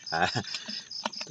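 A voice imitates the mating call of a banded bullfrog, giving a couple of short, nasal, croaking syllables followed by briefer clipped bursts, loud and close.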